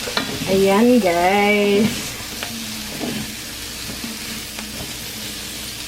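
Bitter gourd (ampalaya) stirred in a hot frying pan, a steady sizzle with scraping spoon strokes near the start, while a voice speaks briefly over it.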